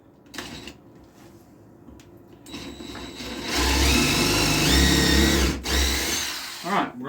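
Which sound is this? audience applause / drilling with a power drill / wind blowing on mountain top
drilling with a power drill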